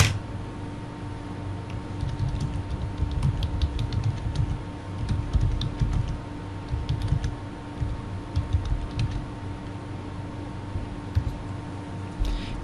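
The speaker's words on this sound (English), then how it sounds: "they can ask their question by typing in this chat box" Soft, irregular clicking of keys on a computer keyboard, steady bursts of typing over a faint electrical hum with no voices.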